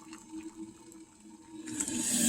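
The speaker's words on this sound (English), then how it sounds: "we're going to take 1 cup of boiling water. So I'm going to fill this" Water runs from a tap into a measuring cup, starting soft and growing louder and brighter as it pours toward the end.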